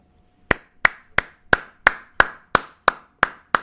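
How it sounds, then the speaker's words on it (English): Ten sharp claps land at an even, unhurried pace, crisp and close, each ringing briefly before the next, with near-silence between them. "Round of applause, guys."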